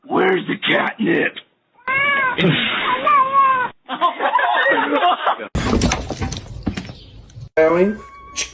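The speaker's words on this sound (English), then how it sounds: "Meowing." Several cat meows and drawn-out caterwauling cries, loud and close, arriving in bursts separated by short pauses, with a person's voice mixed in among them.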